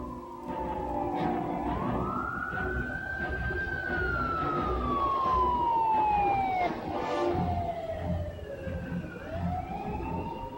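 A siren wails in the GameCube game X-Men Legends, rising and falling in long sweeping glides over a steady background din. It is loud and continuous, with no talking.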